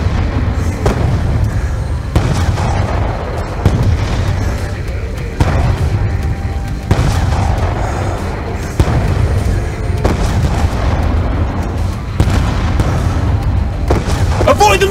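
Missiles and artillery fire boom through a Call of Duty: Black Ops 2 match, loud repeated blasts roughly every one to two seconds over a dense rumbling battle bed, with faint game voices in the mix.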